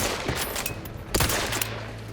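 Gunfire in The Outer Worlds 2 during stealthy combat: a rapid string of close, loud gunshots, with one sharper blast near the middle, over steady game ambience.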